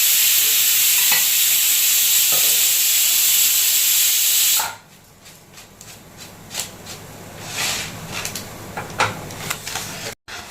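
Cumin and mustard seeds temper in hot oil, giving a loud, dense, steady sizzle for about four and a half seconds before it drops to a softer spatter of scattered crackles and pops.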